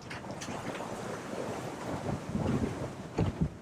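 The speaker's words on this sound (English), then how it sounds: "we're in 16 to 20 knots of wind" Strong wind of 16 to 20 knots blowing across a sailing boat at sea in short, steep waves, a steady loud roar with buffeting on the microphone and splashing surges near the end.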